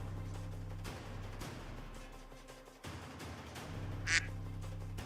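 Duck quacking, heard as one brief, clear call near the end, with steady low background hum and some handling noise before it; no one speaks.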